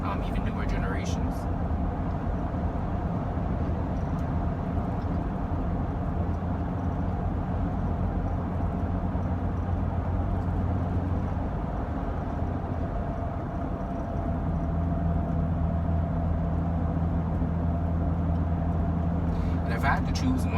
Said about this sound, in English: You can still hear a good amount of wind noise.